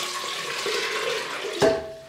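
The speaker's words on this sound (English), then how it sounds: "and you fill that pot with 3 quarts of water" Tap water runs steadily into a large pot being filled with three quarts for a tea base, a soft continuous rushing stream that ends with a brief clunk near the close.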